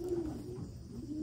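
A racing pigeon, a hen recently vaccinated for PMV, coos softly in a low, drawn-out tone across about a second, close by and alone, with no talk.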